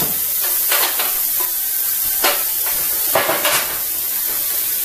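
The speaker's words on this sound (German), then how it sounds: "Die Schalotten und den Knoblauch ganz leicht anbraten" Shallots and garlic fry gently in a pan for goulash, a steady close sizzle broken by a few scraping stirs.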